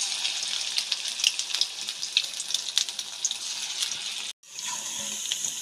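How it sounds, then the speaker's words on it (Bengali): Mushroom pakoras frying in mustard oil in a wok over low heat give a steady, close hiss and crackle, with a brief break near the end before the sizzle resumes. "আঁচটাকে কমিয়ে রেখে ছোট্ট ছোট্ট করে পকোড়াগুলো আমি ভেজে নেব।"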